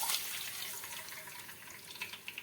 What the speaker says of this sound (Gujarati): હવે તેમાં આપણે પાણી નાખી દેશું.